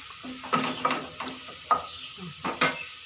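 Chopped onions fry in a hot pan for an okra masala curry, a steady sizzle broken by several scraping stir strokes of a spoon, close and fairly quiet with no talking.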